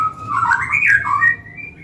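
A murai batu (white-rumped shama) from a breeding business sings a short, loud, close run of bright whistled notes.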